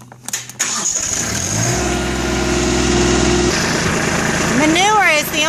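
A tractor engine cranks and catches on a horse farm, settling into a loud, steady rumbling idle, while rising and falling whistle-like tones sound over it near the end.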